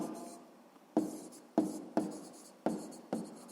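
Pen or pencil writing a sixth-grade math exercise by hand on paper, close up: soft continuous scratching broken by six sharp taps as strokes begin, steady rhythm, no voices.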